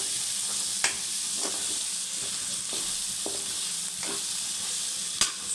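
Mutton fry with garam masala is stirred in a hot pan, a steady close sizzle and hiss punctuated by several spaced spatula knocks against the metal.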